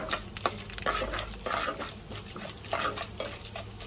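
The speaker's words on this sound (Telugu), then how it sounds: "ఇప్పుడు వీటిని కొంచెం కలపాలి" Cumin seeds and chana dal being stirred in a pan, with light scraping and soft sizzling in short bursts, close and moderately loud, with no talking.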